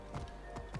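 Horse hooves clip-clopping in Assassin's Creed Origins, three distinct clops spaced at an uneven, unhurried pace over a low ambient game background, close and fairly quiet.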